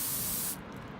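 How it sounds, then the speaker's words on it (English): Carburetor cleaner sprayed through its thin extension tube while servicing a Husqvarna LC221 AWD lawn mower that won't start, heard as a loud steady hiss for about half a second before cutting off to quiet. "We're going to spray."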